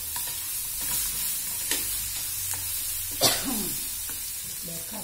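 Tomatoes fry in hot oil for a cauliflower-potato masala as a spoon stirs the pan, a steady close sizzle broken by several scraping stirs and one louder clatter.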